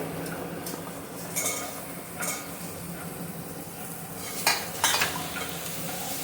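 Ridge gourd, drumstick pieces, dried red chillies and asafoetida being stirred in a pan for onion sambar, with a soft frying hiss beneath several sharp scrapes and clinks of a ladle against the pan, and no talking.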